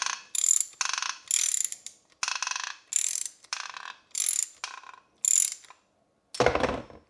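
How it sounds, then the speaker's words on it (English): Vespa PK50XL Rush engine bearing sliding off its shaft during block disassembly: a run of about eight short, evenly spaced metallic ratcheting scrapes, close and fairly quiet, ending in a louder, fuller grinding burst. "Sounds as the bearing is sliding off the shaft."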